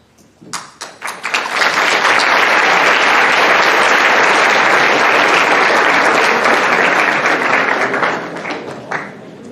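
An audience at a conference opening ceremony breaks into applause for the morning's speakers: a few scattered claps swell quickly into loud, dense, sustained clapping filling the room, then begin to thin toward the end.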